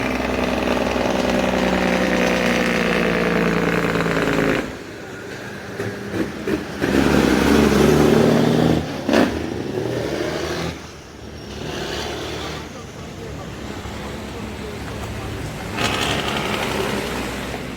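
A Jamaican big rig truck's engine idles with a steady, loud mechanical rumble, then swells as it revs and falls back several times across roughly eighteen seconds, with no talking.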